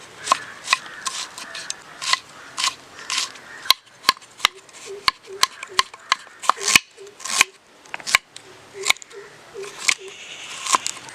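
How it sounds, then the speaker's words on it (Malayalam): A knife chops green chilli, ginger and garlic on a board outdoors at a camp kitchen, crisp irregular strikes repeating steadily, some sharper and louder than others, with a voice talking faintly in places. "അടുത്ത് നമുക്ക് പച്ചമുളക്, ഇഞ്ചി, വെളുത്തുള്ളി ഒന്ന് അരിഞ്ഞെടുക്കാം."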